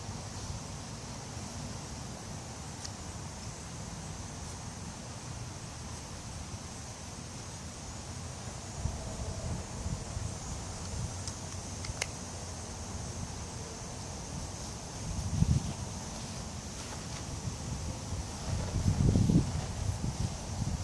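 Steady outdoor wind rushing and buffeting against a microphone while a cotton ball burns in the open air, a broadband hiss throughout with a few stronger low gusts toward the end.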